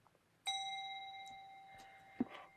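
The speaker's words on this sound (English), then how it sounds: "so I'll even ring a little bell." A small meditation bell struck once, giving a clear ringing tone that sustains and slowly fades over about two seconds, soft and fairly close in a quiet room, with a faint knock near the end.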